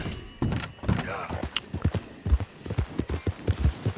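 A horse ridden in Red Dead Redemption 2 clip-clops along in a steady, uneven rhythm of close hoofbeats, with a few soft thunks mixed in during a pre-dawn ride.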